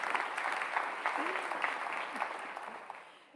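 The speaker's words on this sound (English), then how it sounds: "we'll give applause now." Audience applause at a university convocation ceremony, a steady patter of many hands clapping in a large hall that slowly fades out over a few seconds.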